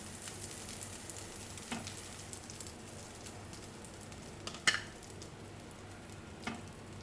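Burger buns toast in butter in a pan for a veg cheese burger, a faint, soft sizzle running steadily under a few sharp clicks and taps of utensils, with no talking.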